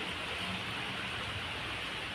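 Steady unseasonal April rain falls outside a window in Solapur, Maharashtra, a continuous soft hiss of downpour, even and unbroken, with no voices.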